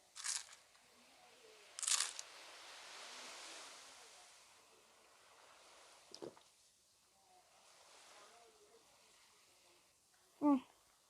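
A character eats in a raft survival video game, giving a few short crisp crunches spread several seconds apart over a faint wash of ocean waves and wind.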